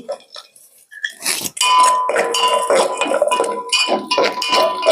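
Dry coconut pieces frying in ghee in a pan: a few light metallic clinks, then a loud, continuous crackling sizzle that carries on close up to the end.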